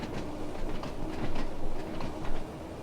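Rumbling train in Train Sim World 2 on the Island Line with rhythmic clatter and rising mechanical whine as it picks up speed, close and steady, with no voices.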